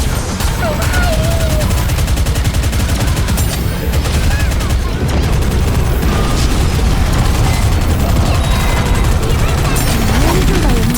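Dense, continuous gunfire and explosions fill a battle in the video game Goddess of Victory: Nikke, loud rapid shots layered with booms throughout, with game voices and music mixed underneath.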